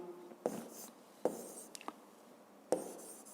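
Pen strokes on paper during a physics exercise, three short scratchy bursts of handwriting with small ticks between them, quiet and close, with no talking.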